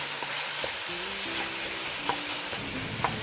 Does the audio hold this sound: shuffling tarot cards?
no